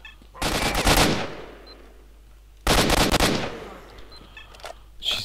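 Two loud bursts of gunfire from the game S.T.A.L.K.E.R.: Shadow of Chernobyl, each a dense crackle of about a second, separated by a short pause and trailing into a faint, echoing decay with small clicks afterward.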